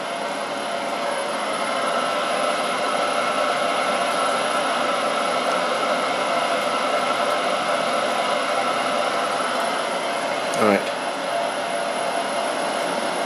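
A Grizzly G0752 machine runs at 96 RPM with a steady, broadband whirring hum that holds even throughout, with a brief sharp sweep near the end.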